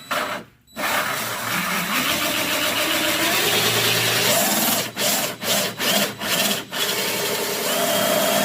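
A 2.5-inch hole saw on a power drill cuts vent holes during a Prowler Pro heater installation, a loud, close, steady grinding whine with a short pause early and several quick stop-start bursts near the end.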